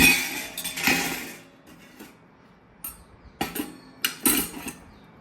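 A brass plate set as a lid on a pot clinks and clatters in several bright, ringing metallic bursts with short quiet gaps between them, close and fairly loud.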